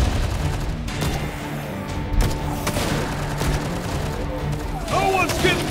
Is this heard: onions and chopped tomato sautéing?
no